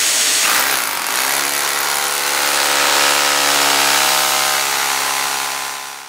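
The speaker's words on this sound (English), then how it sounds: "Alright, so we're drilling now." A power drill bores into a concrete ceiling with a loud, close, continuous whine that holds steady before tapering off at the end.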